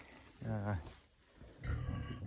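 Pigs on a muddy farm give two short, close grunting calls, a low rough snort and then a deeper throaty grunt, separated by a brief quiet gap.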